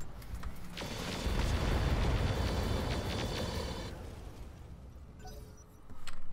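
In the Roguetech video game, a loud burst of weapons fire and explosions erupts, booming and crackling for a few seconds before fading, then another blast near the end.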